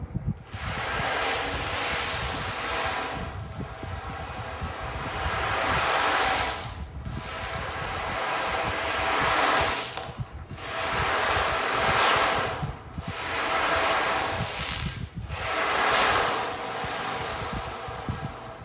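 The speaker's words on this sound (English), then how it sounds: "it makes a sound that sounds a little bit like the waves" A bead-filled ocean drum is tilted back and forth, tiny beads rolling inside in long, loud swelling washes that rise and fall about every two to three seconds, like surf breaking, close and alone.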